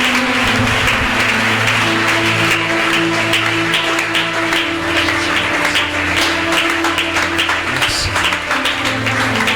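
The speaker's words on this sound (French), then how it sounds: "Est-ce que tu peux acclamer Jésus?" Church congregation applauding and acclaiming Jesus at a Sunday service, a steady wash of clapping across the whole stretch with sustained tonal music or voices underneath.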